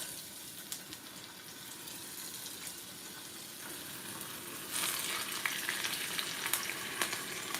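Seasoned pork steaks fry in a hot skillet with a steady, dense sizzle and scattered pops. The sizzling grows noticeably louder and more crackly partway through.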